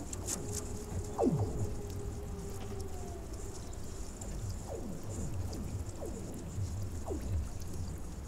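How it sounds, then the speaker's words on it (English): Frozen lake ice sings as it alternately freezes and thaws, with scattered descending twangs and eerie sweeping tones echoing across the ice over a faint, steady background hush. "The lake sings due to the alternating freezing and thawing of its ice."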